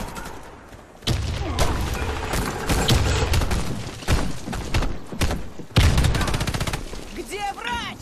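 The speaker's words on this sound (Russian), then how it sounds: "Граната!" Rapid rifle fire rattles in Warface during a clan war match, broken by heavy blasts from a grenade going off; bursts come loud and close in uneven volleys, with brief voices mixed in near the end.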